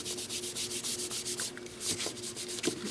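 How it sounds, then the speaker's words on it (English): Close, soft rubbing strokes of a hand pressing material down over a painted letter on an acrylic mixed-media painting, a steady repeated scrubbing rhythm with no talk. "and gently rub it down"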